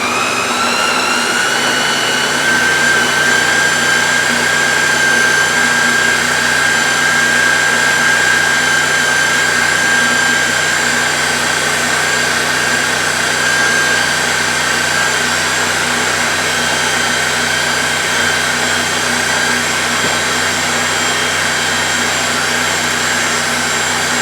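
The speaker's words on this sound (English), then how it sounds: "now we're going to hit mix on the Ninja" A Ninja blender whirs steadily while mixing sweet potato pie filling, a loud continuous motor drone with a high whine that holds unchanged for over twenty seconds, with no talking.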